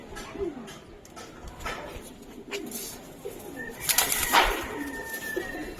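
Giribaz pigeons coo softly in a loft, low murmuring calls rising from a quiet background, with a few brighter bird chirps and rustles in between.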